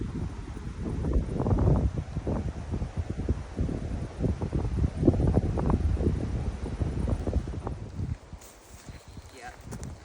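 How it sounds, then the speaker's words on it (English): Steady wind rushes through trees in a quiet outdoor wilderness, a continuous close roar with rustling gusts that eases off near the end. "The trees are all blowing in this wind."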